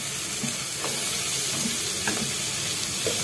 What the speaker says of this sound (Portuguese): Eu gosto de dar uma refogada assim no pimentão